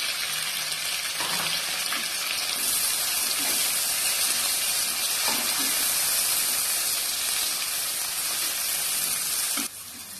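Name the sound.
onions sautéing in a pan for turkey biryani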